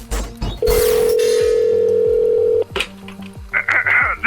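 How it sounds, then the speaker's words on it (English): A payphone at a Shell petrol station gives a loud, steady dial tone for about two seconds, framed by clicks and handset handling, then a brief burst of higher tones at the end. "live from a Shell station payphone"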